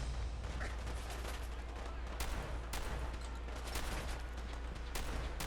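Gunners in Fallout 4 open fire in a rapid battle, with repeated sharp gunshots and bursts over a dense, constant combat din, with voices faintly mixed in.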